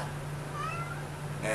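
A house cat meows nearby, one drawn-out rising cry followed by the start of another, under a low steady hum indoors in a kitchen.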